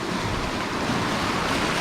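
Ocean surf washing up on the rocky shore at Portland Head Light in Maine, a steady, loud, close wash of breaking water mixed with gusty wind across the microphone, with no break.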